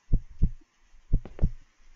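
Two double-thump heartbeats from the video game One Late Night, low and muffled, pulsing close by in steady rhythm over a quiet background.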